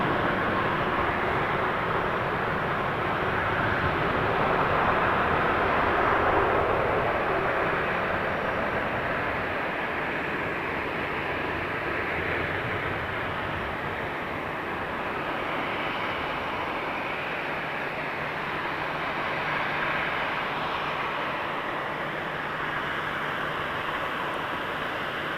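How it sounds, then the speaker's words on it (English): A Swoop-livery WestJet Boeing 737 MAX 8 lining up on the runway at Toronto Pearson gives a continuous, even jet engine rumble, moderately distant and steady for the whole stretch. "Lining up right now, we got a 737 MAX 8 to Las Vegas, WestJet 1118 on the Swoop livery."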